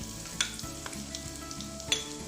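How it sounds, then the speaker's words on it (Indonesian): Sliced shallots fry in hot oil, giving a soft continuous sizzle with a few faint clinks of stirring, quiet and close with no talking. "Minyak sudah panas dan akan saya masukkan bawang merah yang sudah diiris."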